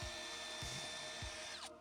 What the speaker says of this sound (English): We're gonna drill through it and run our wires up.